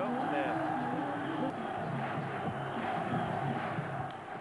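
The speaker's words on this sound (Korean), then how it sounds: "관중석에서 터져나오는 탄식" A baseball stadium crowd lets out a broad, sustained groan the moment a perfect game is broken, a dense murmur of many distant voices swelling and fading, with some talk mixed in.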